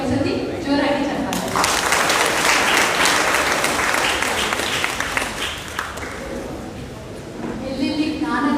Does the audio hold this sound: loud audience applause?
yes